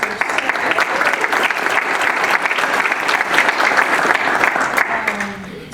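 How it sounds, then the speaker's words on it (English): Sustained audience applause at an awards ceremony, dense and steady for several seconds before tapering at the end. "We can give that a round of applause."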